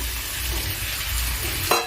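Prawns and pointed gourd fry in spice paste in a hot pan, a dense steady sizzle with soft stirring, ending in a sharp scrape near the close; no voices.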